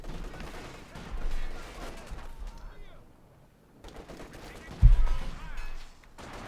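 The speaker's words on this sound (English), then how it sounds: "mortar landing close there to the Panzerfusilierer" A mortar shell lands with a sharp thump in the Company of Heroes 2 war game amid scattered gunfire and battle noise, while a commentator talks over the action.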